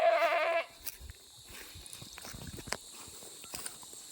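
A goat bleats once loudly and close at the very start, then gives way to quieter rustling and scattered footsteps-like thumps on a farm.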